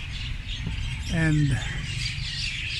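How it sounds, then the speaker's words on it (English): A dense wash of birds chirps loudly and continuously around a shrine near a night market in Lamphun, Thailand, after sunset. Someone speaks briefly over the constant high twittering. "you might hear some chirping of birds in the background."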